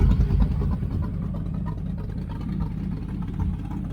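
A 1980 Camaro Z28 engine with a knock-off Holley four-barrel carburetor rumbles steadily up close, with low throaty pulsing and slight rises in revs over a few seconds.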